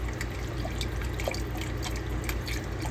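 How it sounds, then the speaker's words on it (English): Liquid pours steadily into Swedish meatball gravy as it is whisked, a continuous close trickle and splash running for the full three seconds with no talking. "You need to whisk or stir while you add this in so that you don't get lumps."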